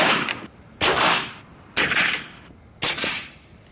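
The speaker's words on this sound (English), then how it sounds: "Now for the suppressed air rifle." A suppressed air rifle fires three sharp, muffled cracks about a second apart, each decaying quickly into a quiet outdoor background.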